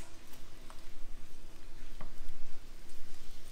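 Scrambled eggs are stirred in a pan over the lowest heat on a large burner, giving a soft continuous sizzle with a few faint ticks and scrapes of the utensil and no talk.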